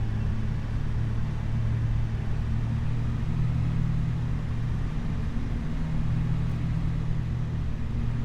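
A tiny car's engine drones steadily while hitched to a trailer in a farm setting, a loud, low, continuous hum with no clear rise in revs.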